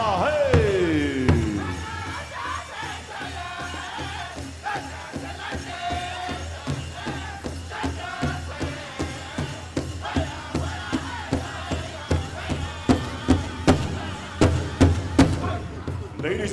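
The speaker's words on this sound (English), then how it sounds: "A big round of applause." Crowd at the grand entry of the 2018 Gathering of Nations pow wow, with loud applause and cheering mixed with a voice at the start and steady rhythmic drum-like thumps building toward the end.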